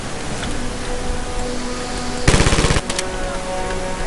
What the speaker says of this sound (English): New submachine gun.